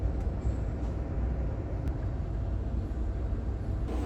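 Low, steady rumble from inside an Amtrak Capitol Limited passenger train car pulling into South Bend, Indiana station, with a faint high squeal and a brief metallic tick as it rolls slowly.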